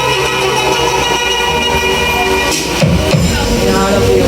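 A huge 'The Big One' bass sound system being tested at full volume, a dense, loud, continuous roar filling the whole range with a brief dip and surge midway.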